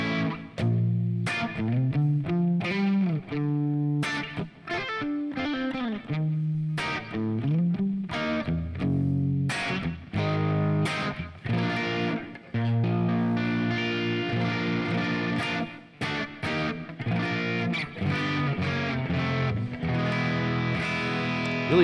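A PRS Silver Sky SE electric guitar on its neck pickup, played through a hot, Marshall JM45-style amp channel, rings out in mildly driven chords and single-note runs, loud and close with no talking.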